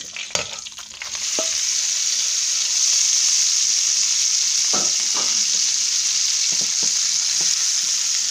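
Pre-cooked, peeled pink shrimp hit a hot pan and sauté with a loud, steady close sizzle, punctuated by a few scraping and knocking stirs of a utensil, after some clatter at the start.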